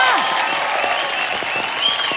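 An audience claps steadily at a live comedy club show, a full burst of moderately loud applause with a few whoops and voices rising over it.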